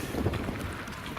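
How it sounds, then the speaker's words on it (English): Strong wind buffets the microphone beside the Mochu river in Punakha district, Bhutan, a steady rumbling roar of gusts with no voices over the short stretch. "This is the river, and it's very windy."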